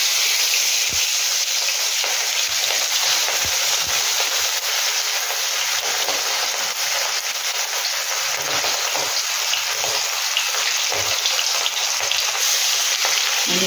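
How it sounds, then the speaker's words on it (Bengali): Hilsa fish pieces rubbed with salt and turmeric frying in hot mustard oil, a dense continuous sizzle and crackle close up, with occasional soft knocks of a utensil against the pan. "এবার এখানে মাছগুলোর গায়ে একটু নুন হলুদ মাখিয়ে একটু ভেজে নেব মাছগুলোকে।"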